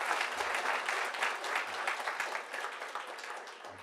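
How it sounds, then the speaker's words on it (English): A warm round of applause greets keynote speaker Amir at a Tech Day conference, steady crowd clapping at moderate, somewhat distant level that gradually softens toward the end. "let's give a warm round of applause to Amir"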